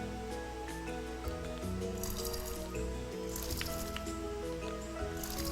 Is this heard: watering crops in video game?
yes